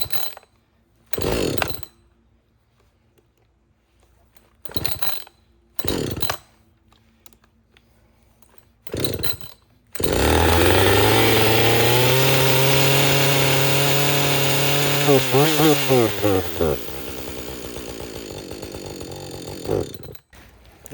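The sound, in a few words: Husqvarna 562XP chainsaw running at fast idle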